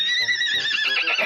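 A horse gives a loud, close, drawn-out whinny with a wavering, shaky pitch, heard on its own.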